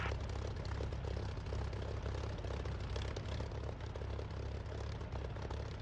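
A Spitfire's piston aircraft engine in the flight simulator DCS drones loudly and steadily throughout, a dense, continuous roar with no voices over it.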